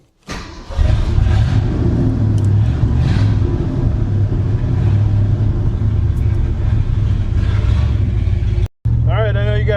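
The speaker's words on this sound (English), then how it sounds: "Car seems to be running okay." A long-frozen Mercury Montclair's engine runs with a deep, steady rumble as the car drives along, loud and close throughout, briefly cutting out near the end before resuming, with a voice heard at the very end.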